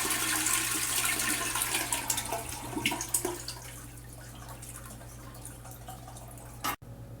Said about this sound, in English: we'll go ahead and flush the toilet. And we'll hold the handle down